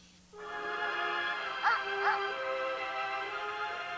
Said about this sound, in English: Now that's a dog.